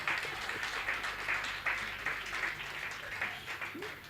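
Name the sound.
audience clapping at a poetry recital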